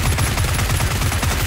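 Rapid, rhythmic automatic gunfire in PUBG hammers away steadily and loud throughout, a tight burst of repeated shots with no talk.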